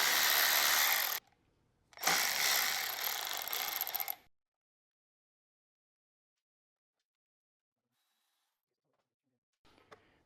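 A 10 mm socket on a swivel works loose a carburetor bolt on an Ariens snowblower with a Briggs & Stratton engine, giving two loud, close bursts of ratcheting and grinding with a short gap between them, then silence and a faint clink.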